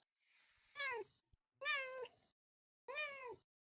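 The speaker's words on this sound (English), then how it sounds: "The cute meows, they're adorable." A cat meows three times in a row, each call clear and fairly close, with short silent gaps between them and no talking over them.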